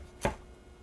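A single knife chop through a celery stalk into big pieces, one short crisp thud on a cutting board, close and isolated.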